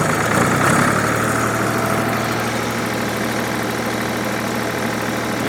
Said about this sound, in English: PTO's running.